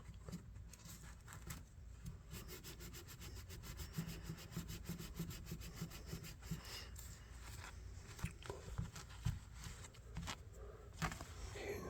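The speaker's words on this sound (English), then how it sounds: "Let's just do some scrubbing here, see what happens." A vintage pocketknife is scrubbed by hand with brisk back-and-forth strokes, a steady rhythmic rasping that runs continuously and close up, with no talking.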